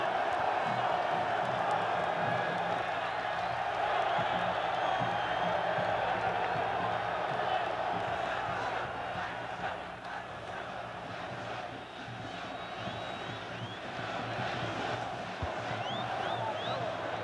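A Brazilian football stadium crowd of Flamengo supporters roars after a Flamengo goal in a 2008 Brasileirão match against Portuguesa, a dense, sustained wall of cheering and chanting with commentary running over it.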